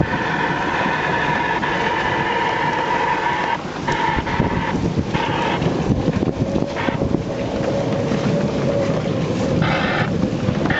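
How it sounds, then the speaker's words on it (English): A golf cart rolls along on the way to breakfast, its steady motor drone and road rumble heavily mixed with loud, buffeting wind noise across the microphone throughout, with no talking. "Going to breakfast in the golf cart"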